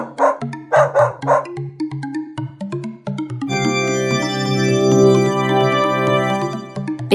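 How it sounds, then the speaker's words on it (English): A dog gives three quick loud barks, close and clear, followed by sustained background music. "It's a dog."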